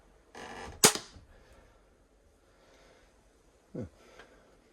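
An FMA Supersonic Tactical Rev bow shooting a bolt gives one sharp, loud snap early on, followed by a brief fainter thump a few seconds later, against an otherwise quiet background.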